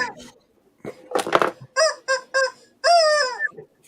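A pet chicken squawks in a few short honking calls and one longer call, close and loud, after some brief rustling and handling noises.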